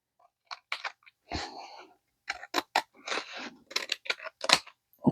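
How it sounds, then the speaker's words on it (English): Scissors trim paper close up in a series of short crisp snips and crunchy cuts, some in quick clusters with brief pauses between. "Let me grab my scissors here."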